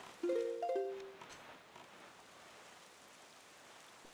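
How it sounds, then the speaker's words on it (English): Rain falling in The Legend of Zelda: The Wind Waker, a soft steady hiss that continues after a brief melodic chime at the start. "Man, it's raining."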